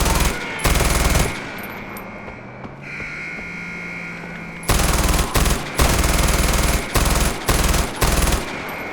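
Far Cry 4 gunfire during a gate assault, loud bursts of rapid automatic fire separated by a lull with humming and distant commotion, then several heavy repeated bursts in quick succession.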